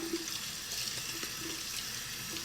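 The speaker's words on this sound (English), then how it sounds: "I'm turning on the water." Water runs steadily from a tap into a sink, a continuous hiss and splash that stays even throughout, with no voices.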